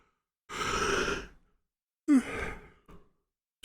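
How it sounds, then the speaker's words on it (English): A person gives a long, breathy yawn up close, then a second shorter one with a vocal rise, ending in a faint exhale in a quiet room. "My apologies, yawning."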